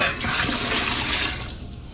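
Chicken broth poured into a boiling stew pot, a steady close rush of liquid that holds loud for about a second and a half, then thins and fades.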